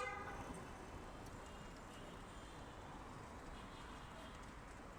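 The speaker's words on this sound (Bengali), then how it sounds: "এই যে রাস্তাঘাটে হর্ন দেওয়াটা একটা" Vehicle horns toot amid steady roadway noise in congested city traffic near a busy junction, heard from a bicycle, with the honks faint and distant under a continuous traffic rumble.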